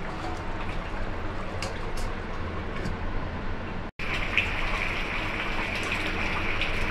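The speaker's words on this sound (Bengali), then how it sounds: "দেখুন তরকারিটা কত টকবক করছে।" Rui fish curry with pointed gourd and potato bubbling hard in a covered pan on a gas stove, a steady dense hiss of simmering liquid that runs on without a break.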